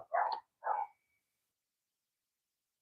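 A dog gives two short, sharp barks close by, the second slightly shorter, followed by near silence.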